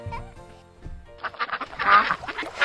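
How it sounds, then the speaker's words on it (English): A cartoon duck quacks in a kids' animal-learning song, several bright, nasal honking calls bunched together over a light musical backing, close and fairly loud. "Yeah, it's a duck."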